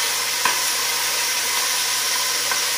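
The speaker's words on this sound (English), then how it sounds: "we're gonna lightly sear up the pieces of the pork butt to give it some texture" Pieces of pork butt searing in butter in a pan for Filipino-style pork adobo, heard as a constant close, loud hiss of frying with a couple of faint clicks.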